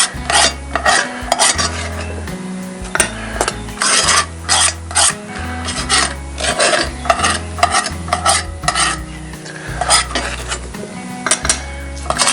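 A utensil scoops a breakfast mixture out of a Dutch oven, with repeated loud metallic scrapes and clanks against the pot's sides in irregular bursts, close and clear.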